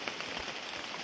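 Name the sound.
rain falling on leaves and tarp in forest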